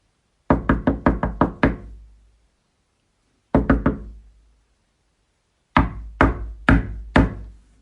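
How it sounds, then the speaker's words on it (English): Heavy knocking on a castle door comes in three loud, close bursts of rapid raps: six knocks, then four, then five, with silent pauses between. "He knocked on the door and called out."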